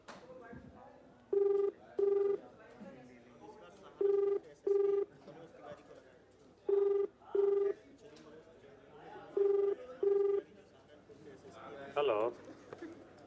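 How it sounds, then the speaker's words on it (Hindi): A telephone ringback tone repeats in regular double pulses, about four rings spaced evenly, with faint background chatter and a voice briefly at the end. "घंटी जरूर जा रही है फोन पे।"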